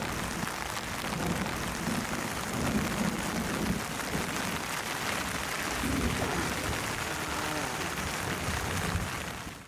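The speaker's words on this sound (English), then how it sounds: "now it's pouring with rain" Heavy rain pouring after a day of thunderstorms on an Angolan river, a dense, steady hiss of falling water close around, with faint speech in the background.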